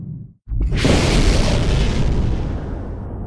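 A supernova sound effect for a white dwarf star detonating: after a brief silence, a huge, sustained roaring boom swells and slowly decays across several seconds.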